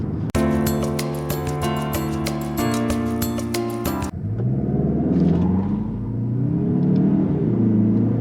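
A Mazda CX-30 Turbo accelerates hard in a 0-60 run, its engine a loud, strongly tonal roar that climbs for about four seconds, then drops to a lower, rougher drone as the revs fall.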